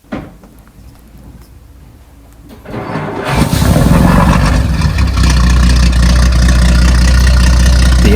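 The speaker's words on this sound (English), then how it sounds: "capturing that big, beautiful Scud engine starting up" A big Scud marine engine in a wooden boat cranks and fires, then roars up loud and close into a deep, steady idle that fills the space.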